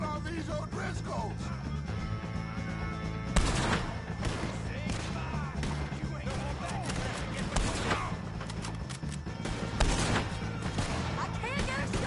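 A sustained gunfight against O'Driscolls in Red Dead Redemption 2 fills the scene with dense, overlapping rifle and pistol shots over a steady game soundscape, with shouting voices mixed in.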